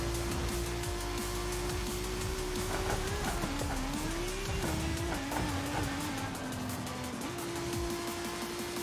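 Paul Walker's Nissan GT-R in the racing game Forza Horizon 5, its engine droning steadily while revs rise and fall, with tire squeal and road noise, no voices.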